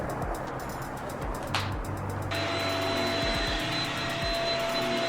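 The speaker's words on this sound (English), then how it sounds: "So my robot vacuum also has a mopping feature, which I haven't tested out, and I'm just doing it now." A robot vacuum cleaner running in mopping mode indoors in an apartment gives off a steady whirring hum with a thin high whine, plus occasional light knocks as it moves.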